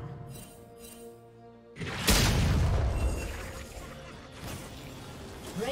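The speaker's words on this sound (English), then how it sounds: "Red team's turret has been destroyed." A turret collapses with a deep boom and crashing debris in League of Legends, the blast rising sharply and then fading into a rumbling tail over ongoing game sounds.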